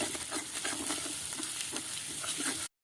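Spice masala with turmeric and salt is sautéed in a pan, giving a close, steady sizzle with scraping stirs throughout before cutting off abruptly.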